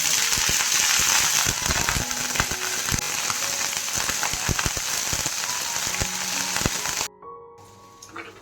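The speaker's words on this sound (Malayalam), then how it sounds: "അപ്പം നമ്മുടെ കടുക് പൊട്ടി വന്നിട്ടുണ്ട് ആ സമയത്ത് നമ്മളിങ്ങനെ കഴുകി വെച്ചിട്ടുള്ള മുരിങ്ങ ഇല ചേർത്ത് കൊടുക്കുക" Drumstick leaves sizzling hard in hot oil with spluttered mustard seeds for a dal curry, a steady loud crackle and popping with scattered sharp spits before it drops off abruptly near the end.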